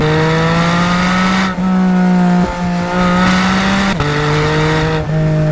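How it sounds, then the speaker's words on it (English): A 2021 Porsche 718 Spyder's 4-liter naturally aspirated flat-six with PDK revs hard and loud, climbing in strong rising pitch with quick gear-change dips and blips throughout, no talk over it. "Star of the show is that high revving 4-liter naturally aspirated flat 6 engine producing 414 horsepower"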